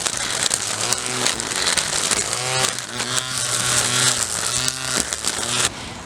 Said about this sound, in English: So let's get weed whacking.